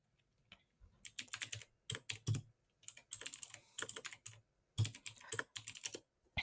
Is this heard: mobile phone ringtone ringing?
no